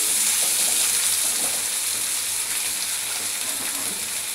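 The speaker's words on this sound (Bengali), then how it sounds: "ভাজা আমার চলছে" Banana flower fritters fry in hot oil, giving a loud, steady, close sizzle that runs unbroken throughout.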